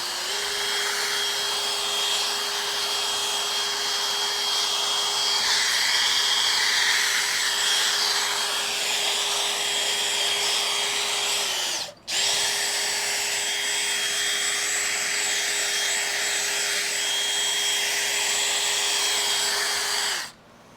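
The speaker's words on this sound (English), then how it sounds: "using some compound, the drill, just gonna go at it" A steady electric drill polishes a 1982 Honda XL80S motorcycle fuel tank with compound, whirring continuously at close range, pausing briefly once before starting up again and running on.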